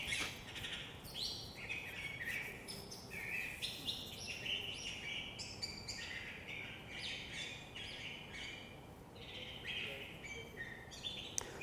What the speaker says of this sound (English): This is the song of this particular curve-billed thrasher.